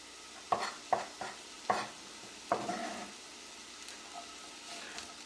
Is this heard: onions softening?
yes